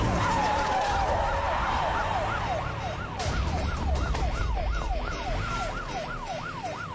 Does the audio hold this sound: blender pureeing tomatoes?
no